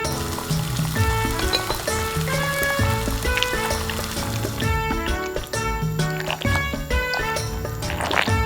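Water pours into a tiny pan during miniature seafood cooking, giving a close, bubbling, liquid trickle over a continuous sizzle, with light drips.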